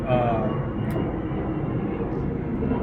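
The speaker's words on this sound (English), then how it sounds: "we live by the airport and always got a plane flying over" A plane flying over a home near an airport, a steady low engine rumble that holds throughout at moderate distance.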